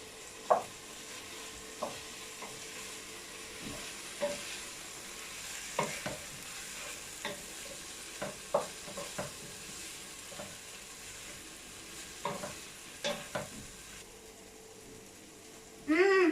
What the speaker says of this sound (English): Now let's put some egg. Mix it.